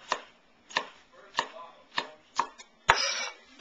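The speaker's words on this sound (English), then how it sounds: "I just cut it into strips first, and then come back and cut it the rest of the way" A knife cuts a bell pepper into strips on a cutting board, five evenly spaced crisp chops near the mic, then a louder final cut with a brief rustle.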